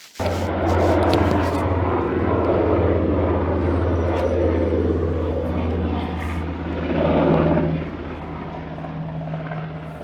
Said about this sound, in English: Coast Guard helicopter.